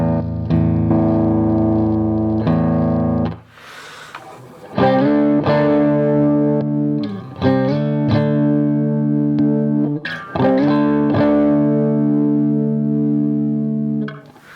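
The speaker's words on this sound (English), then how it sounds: "It's not a distortion pedal, it's an overdrive, so it kind of warms up your tone" Electric guitar played through a Behringer TO800 vintage tube overdrive pedal set to maximum drive, loud sustained overdriven chords and notes ringing out in several bursts with short pauses between.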